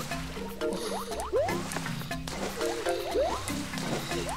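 Water rises in a Super Mario Maker 2 level, heard as game sound effects of bubbly, squishy rising blips and liquid gurgles repeating in a steady rhythm, with no talking.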